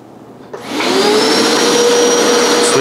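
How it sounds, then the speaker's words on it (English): A Hoover PowerScrub XL carpet cleaner starts up and runs on carpet, a loud steady motor whine and airy rush that builds within a second and holds constant, alone without talk. "You can see this Hoover is doing a fantastic job of lifting and cleaning the carpet fibers."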